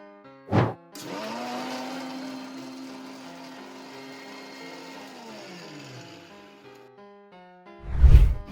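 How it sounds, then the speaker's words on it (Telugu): A kitchen mixer grinder whirs at a steady high pitch for several seconds blending a banana milkshake with ice cubes, then winds down, framed by two sharp thumps of the jar being handled. "మిక్సీ పెట్టుకోవాలి"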